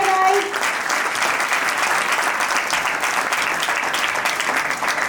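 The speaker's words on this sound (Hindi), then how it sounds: "जोरदार तालियां हो जाए" Sustained applause from a crowd at a corporate team-building event, steady and loud for the whole stretch with no pauses.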